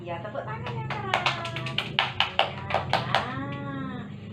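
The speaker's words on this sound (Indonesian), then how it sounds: "Iya, tepuk tangan yang keras." Children do a rhythmic Pancasrada clap game in a classroom, sharp handclaps in a quick patterned series of about a dozen, with voices chanting along over them.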